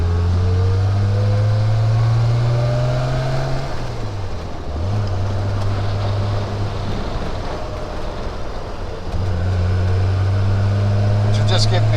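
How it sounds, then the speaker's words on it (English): A Triumph Vitesse Mk2 car engine on sunny back roads, droning close and loud as it climbs through the revs, dips on a gear change, then pulls up again, while someone talks over it. "Which will just give me a real chance to use the whole of the rev range."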